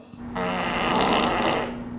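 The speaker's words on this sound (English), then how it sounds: "Alexa, make a fart." Alexa plays a fart sound through Sonos speakers in a renovated NYC apartment: a single long, buzzy, rumbling blast lasting over a second, loud and close, with no talk over it.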